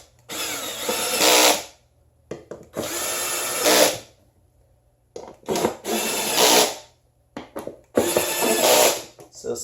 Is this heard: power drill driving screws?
yes